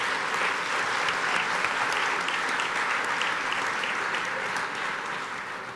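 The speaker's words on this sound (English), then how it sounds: "And please, a big round of applause." Sustained audience applause for sponsors at the Arkansas Alumni Awards Celebration 2019, a steady, dense clapping wash from a large room that holds evenly for several seconds before tapering slightly.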